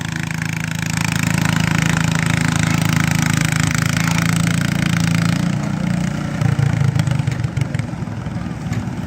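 Old lawn tractor engine running at a tractor pull at an autofest in Uxbridge, Ontario, a loud steady mid-pitched drone that holds for several seconds then shifts to a rougher, harder-working tone near the end, with crowd noise around.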